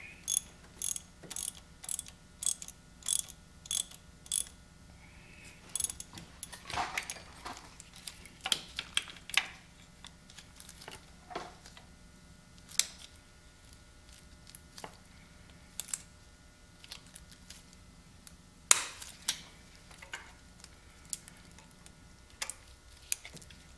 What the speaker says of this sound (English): I'm going to use the help of the vice grip. Let's see if it's going to do anything.